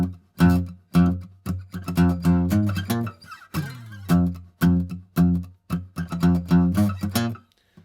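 Guitar plays a simplified version of a riff: short, punchy plucked notes in a syncopated repeating rhythm, with a quick slide midway, close and clear with no voice.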